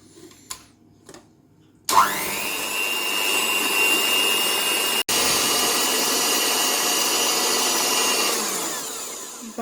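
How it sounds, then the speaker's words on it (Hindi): Electric hand mixer beats butter for bakery-style egg biscuits, starting with a few handling knocks, then a loud steady whirring drone that runs on with one brief interruption. "पहले मैं बटर को बीट करूंगी।"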